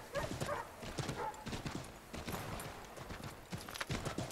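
Rapid clip-clopping horse hooves in the video game Assassin's Creed III keep up a steady gallop rhythm through snow, loud and close, with a brief whinny and busy game ambience underneath.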